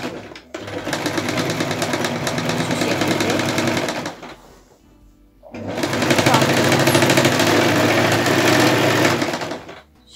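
A sewing machine stitches a baby nest in two long continuous runs, loud and close, with a short pause between them and a brief quiet at the end.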